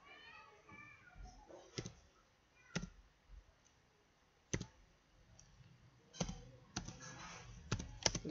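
Typing on an Android phone produces sparse soft taps and clicks, spaced irregularly, close and quiet, with faint talk in the background.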